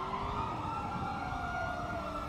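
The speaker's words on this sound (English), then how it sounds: "Oh, damn these fucking sirens, man." A video game siren in GTA roleplay wails, holding a steady, slowly falling tone against a constant background rumble, moderately distant, with no talking.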